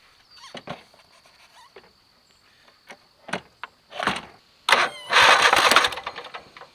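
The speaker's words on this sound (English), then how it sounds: "throw a battery on it and see if it'll turn over, and throw some gas in it, maybe even see if it'll crank" An old engine with a fresh battery fitted cranks over in short, uneven bursts, then a louder sustained cranking churn near the end, with scattered clicks and knocks before it.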